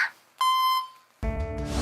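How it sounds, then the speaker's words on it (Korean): A voicemail tone sounds after an unanswered phone call: a clear, steady electronic beep sustained for about half a second, followed after a short gap by a buzzier, harsher tone. "고객이 전화를 받지 않아 삐 소리 이후 음성 사서함으로 연결됩니다"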